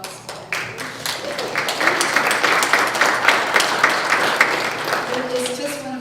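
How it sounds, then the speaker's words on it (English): Audience applause at a candidates' meeting for an arts vote event in Kawartha, Ontario: clapping swells after about a second and holds steady at moderate level, with scattered claps and a voice near the end. "let's give a round of applause for Dan"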